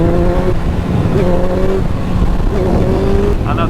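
A jet-kitted Suzuki Bandit motorcycle engine revs under throttle in two rising pulls with a slight hesitation, loud and close, recorded while riding.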